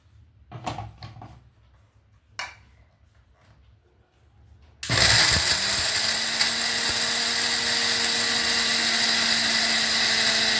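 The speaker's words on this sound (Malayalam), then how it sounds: "നമുക്കിത് മിക്സിയിൽ പൊടിച്ചെടുക്കാം." A mixer grinder with a small jar grinds whole garam masala spices such as pepper and cinnamon. A few faint clicks come first, then the motor bursts into a loud, steady, high-pitched whirring roar that continues to the end.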